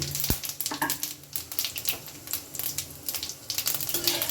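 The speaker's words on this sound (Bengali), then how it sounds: "এবারে দিয়ে দেব তেজপাতা শুকনো লঙ্কা এলাচ দালচিনি ও লবঙ্গ আর দেব গোটা চিনি" Whole spices (bay leaf, dried chilli, cardamom, cinnamon, cloves) and sugar drop into hot oil, giving bursts of crackling sizzle with sharp pops and some stirring scrapes, close and moderately loud.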